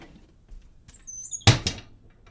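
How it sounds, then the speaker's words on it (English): A door swings shut in a room heated by a wood stove, giving a single sharp knock followed by a brief rattle, close and fairly loud against near silence. "Oh, I got to close the door."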